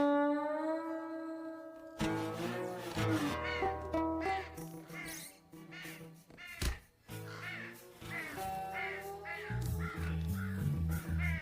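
Crows cawing repeatedly over a busy mix of music and ambient sound, harsh calls coming in quick irregular bursts throughout, moderately loud within a dubbed South Indian action film scene.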